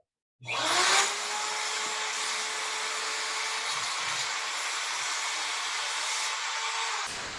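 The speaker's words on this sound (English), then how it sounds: "I'm just going to turn my drill on, and I'm going to perpendicularly put my blade to it." An electric drill starts abruptly and runs with a steady, loud, high whine as it grinds against a metal blade to re-tooth it, then cuts off sharply at the end.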